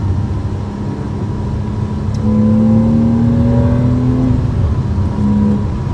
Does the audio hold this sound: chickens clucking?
no